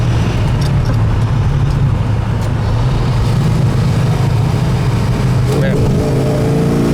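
A 1968 Dodge Charger cruising down the road, its engine giving a loud, continuous low rumble with steady road noise throughout, close and unbroken.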